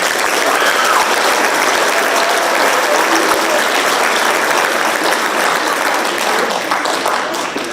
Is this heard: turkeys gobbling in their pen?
no